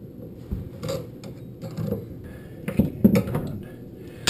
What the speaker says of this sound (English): get in there with the tool